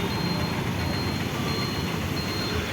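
Thiruvananthapuram Central railway station ambience in the early morning, a steady, loud, broadband rumble and hiss of trains and platform noise with no distinct individual events.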